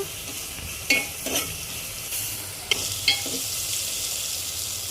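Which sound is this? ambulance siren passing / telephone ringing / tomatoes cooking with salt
tomatoes cooking with salt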